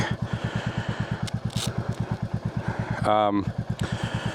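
A motorcycle engine thrums steadily in a fast pulsing rhythm while riding, with a brief scraping rattle partway through.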